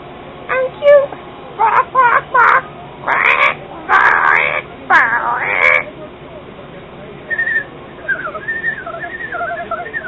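A pet bird gives a series of loud, close squawks and raspy calls in bursts, then softer warbling chirps toward the end, with quieter human encouragement around it.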